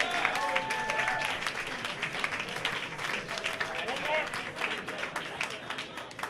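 A crowd at a gaming event's closing ceremony applauds with sustained, dense clapping that holds steady throughout, with voices mixed in.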